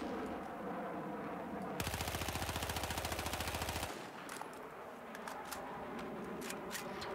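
A rifle in Battlefield 4 fires a sustained automatic burst of about two seconds, rapid evenly spaced shots loud against a constant game background hum that continues alone afterward.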